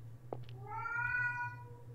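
A cat in the game Don't Breathe: The Crooked Man lets out one clear, drawn-out meow, preceded by a couple of tiny clicks over a quiet steady hum.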